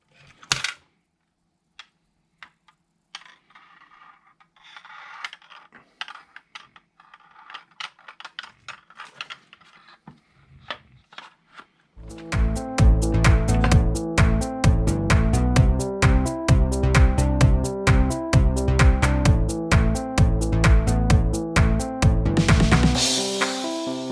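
Screws are loosened on the top rail of an HPA airsoft rail cannon conversion kit, giving a string of close, quick ratcheting clicks with gaps between turns. After that, louder rhythmic music plays over the clicking.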